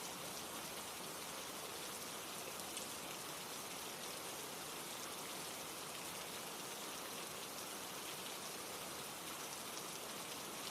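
Steady, dense rain falls without a break, a close, even hiss of drops on surfaces that stays constant from start to finish with no voices.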